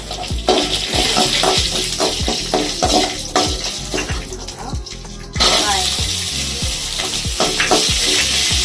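Chana dal, ginger, garlic and dried chillies fry in a pan for capsicum chutney, a loud close sizzle cut by rhythmic spatula knocks against the pan, with a sudden burst of hotter spitting partway through.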